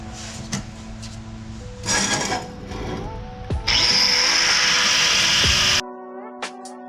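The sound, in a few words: cutting a 45-degree exhaust pipe bend for Supra downpipe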